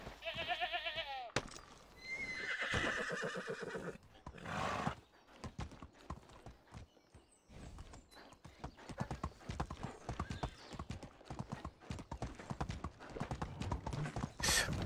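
A horse in Medieval Dynasty whinnies loudly at first, then hooves clop in a fast, steady rhythm, close and prominent, with a goat-like bleat mixed in.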